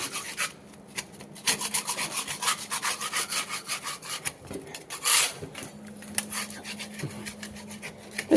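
Sanding a painted wall before repainting it white, rhythmic rasping strokes of abrasive on the surface, close and fairly quiet, repeating in quick uneven passes.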